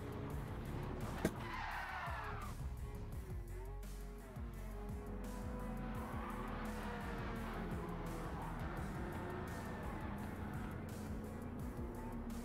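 Race cars crash in turn 2 of Gran Turismo 7, with a sharp impact bang early on over continuous engine roar and skidding tires that run throughout.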